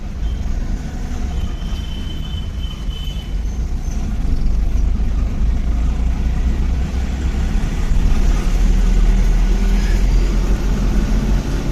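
Road traffic in Sirisilla town heard from inside a moving truck, a dense, continuous rumble of engines and passing vehicles that grows louder midway, with no talk.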